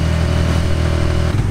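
A motorized tricycle in the Philippines, carrying a full load of passengers, drones with a loud, steady engine hum and throb close up, with no change in pace throughout.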